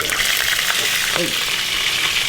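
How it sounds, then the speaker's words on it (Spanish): Breakfast sausages frying in leftover bacon oil give a steady, close crackling sizzle throughout, with a few stirring or shifting sounds in the pan. "Las estoy friendo en el mismo aceite que dejó el bacon."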